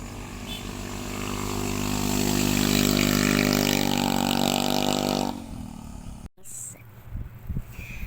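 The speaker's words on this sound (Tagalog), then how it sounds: "eroplano daw na" An airplane flying overhead makes a loud, tonal droning roar that builds and holds for several seconds before cutting off abruptly. Faint scattered handling noises follow.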